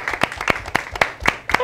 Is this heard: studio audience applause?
yes